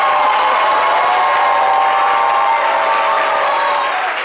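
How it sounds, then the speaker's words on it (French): Loud, dense applause from a large audience fills the whole stretch, steady throughout with a hint of cheering, tapering slightly at the end. "On applaudit encore très fort"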